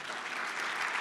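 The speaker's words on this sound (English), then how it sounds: "Applause." An audience at a privacy and data panel talk gives a short burst of steady, dense applause with no voices over it.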